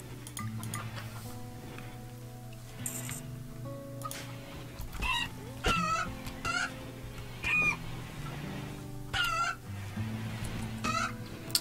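Chickens cluck and a rooster calls in the Rimworld colony sim, with repeated clucks and short squawks close up over a steady game music drone.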